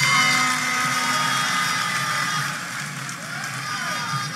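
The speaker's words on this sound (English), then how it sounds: "Another round of applause for our" Audience applause and cheering fill a Ghanaian political gathering, a dense, steady crowd roar that sits close and loud throughout and eases slightly toward the end.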